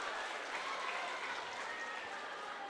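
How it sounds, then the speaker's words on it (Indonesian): A crowd at a school new-student orientation claps continuously in a steady, dense wash of applause from start to finish. "Tepuk tangan dulu untuk kalian semua."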